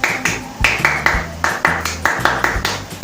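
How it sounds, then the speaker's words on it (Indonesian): A group of Pramuka scouts performs the rhythmic scout clap, a patterned series of sharp synchronized claps repeating steadily and close by, with voices faintly underneath. "2 kali tepuk Pramuka."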